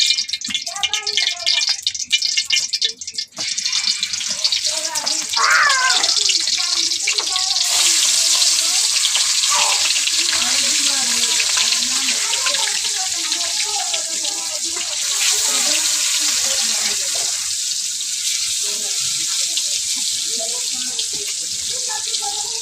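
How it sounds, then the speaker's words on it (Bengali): Golden carp pieces dropped into hot oil in a home kitchen, a loud continuous hiss and crackle that sustains for over twenty seconds with brief bubbling variations. "এখন আমি মাছগুলা দিয়ে লইয়াম"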